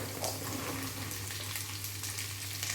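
Cut garlic (large Chinese cloves) sautés in oil in a pan for pickle, giving a steady, close, crackling sizzle over a low hum, with no voices.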